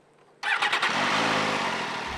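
An MV Agusta F3 motorcycle engine fires up abruptly after a brief quiet moment, then settles into a loud, steady, rough idle close by, with no talking.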